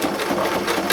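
A sewing machine stitches a blue jeans purse strap, its motor whirring in one steady, close, continuous run with no pauses.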